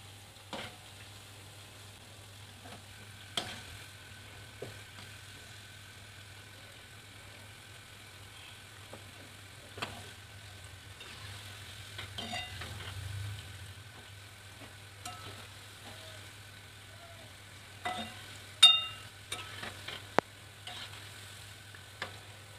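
Gulgule, sweet jaggery fritters, fry in a kadhai, giving a faint, soft continuous sizzle under a low steady hum, with occasional light clicks and stirring knocks, a few sharper near the end.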